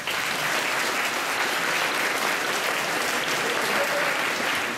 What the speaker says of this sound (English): a round of applause for our wonderful students